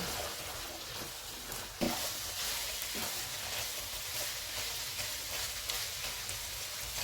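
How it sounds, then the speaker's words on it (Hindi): Steady broadband sizzling of minced meat and boiled chickpeas frying in oil, continuous and fairly close, with a few brief clinks or stirring knocks. "अब हम इनको ऑयल अलग होने तक भूनेंगे।"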